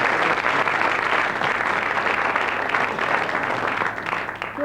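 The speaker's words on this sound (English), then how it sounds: "he gets a round of applause and the quiz book" Studio audience of a British radio quiz show applauds a winner, a loud, dense burst of clapping sustained for several seconds before tapering off at the end.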